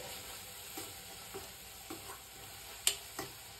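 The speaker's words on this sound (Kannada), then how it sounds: "ಇದು ಎಣ್ಣೆ ಬಿಡೋ ತನಕ ರೋಸ್ಟ್ ಆಗಬೇಕು." Egg masala roasts in oil in a pan, a faint, soft sizzle broken by a few scattered clicks and scrapes of stirring, one sharper tap near the end.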